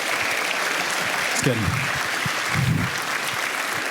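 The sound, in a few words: audience applause for the panel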